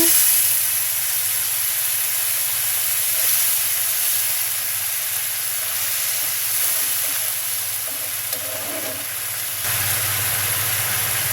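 Broth poured into a hot pan of boal fish curry sets off a steady, loud sizzle and hiss that runs unbroken throughout, swelling slightly near the end.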